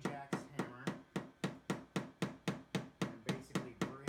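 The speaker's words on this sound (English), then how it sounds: "going with the Shane Jack's hammer" A paintless dent repair hammer taps rapidly and evenly on the crushed fender of a 2017 Lexus SUV, giving a steady series of sharp metallic knocks close to the microphone.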